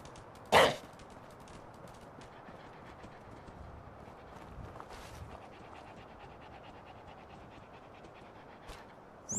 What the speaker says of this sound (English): What do you got, you weird looking dog?